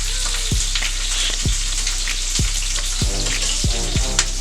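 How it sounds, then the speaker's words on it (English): Turkey meat frying to a crisp in a pan for a Dagwood sandwich gives a steady, close sizzle with a few sharp scrapes and taps as it is kept moving. "We want a nice, good crisp on this turkey."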